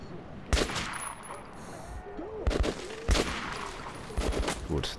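Bursts of rapid gunfire in the video game Metro 2033 Redux crack in clusters over a murky background, with a voice speaking briefly between the shots.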